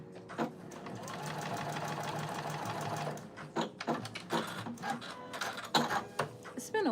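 A sewing machine stitches the side seams of a garment, first in a long continuous whirring run, then in short stop-start bursts with pauses, near and clear, while a person speaks at times.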